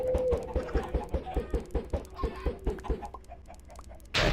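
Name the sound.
chickens clucking in a video game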